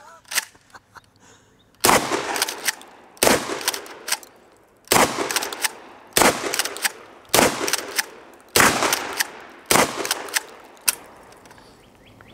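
An S&W M&P 12 shotgun fires waterfowl loads outdoors, with about seven loud, sharp booms at roughly one-to-two-second intervals, each trailing off in a ringing decay.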